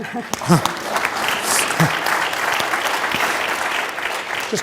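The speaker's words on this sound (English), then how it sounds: "That deserves a round of applause as well." Audience applause rings out at a panel discussion of women judges, a steady wash of many hands clapping that holds loud throughout, with a few brief voices cutting through near the start.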